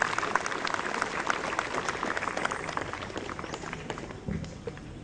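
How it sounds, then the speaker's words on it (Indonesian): An outdoor crowd at a university flag ceremony marking Indonesian independence gives a steady, moderately distant round of clapping that carries on evenly without a clear voice over it. "Kita berikan tepuk tangan yang meriah untuk pasukan pengibar bendera Universitas"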